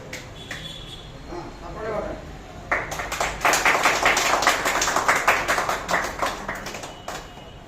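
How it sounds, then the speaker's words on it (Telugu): Clapping at a Congress party 139th anniversary celebration rises after a few seconds of voices into a lively round of hand claps from a small group close by, with people talking around it. "ఇప్పుడు చప్పట్లు కొట్టండి."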